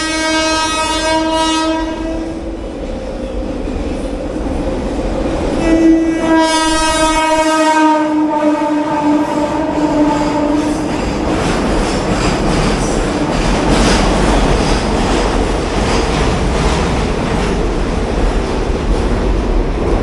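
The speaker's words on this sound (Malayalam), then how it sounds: "ആ കാണുന്ന Ernakulam to Hazrat Nizamuddin millennium express ആണ്" A loud train horn blares in two long blasts, followed by the steady roar and rhythmic clatter of the Ernakulam–Hazrat Nizamuddin Millennium Express rushing past close by.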